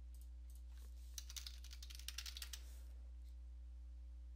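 Keyboard typing on a Windows computer, a quick burst of light clicking keystrokes, fairly faint against a steady electrical hum, with no talking.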